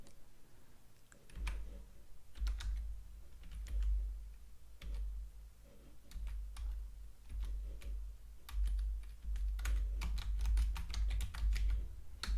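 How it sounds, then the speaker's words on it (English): Slow, irregular typing on a computer keyboard, with steady clicks and clacks scattered over about twelve seconds at moderate level, set against a low background hum. "Excuse my slow typing."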